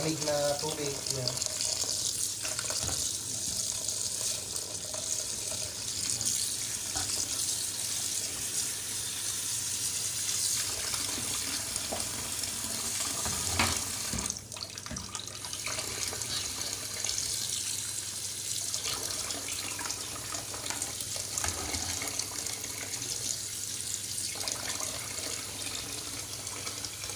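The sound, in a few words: rinsing pasta under running tap water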